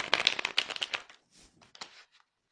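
Tarot cards shuffled by hand for a card reading, a close run of quick riffling flutters in bursts, then softer, sparser card slides and taps toward the end.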